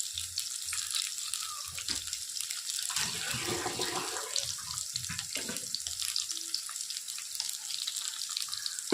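Curry leaves are rinsed under a running kitchen tap, a steady close hiss of flowing water with splashing that swells in the middle as the leaves are handled, with no talk.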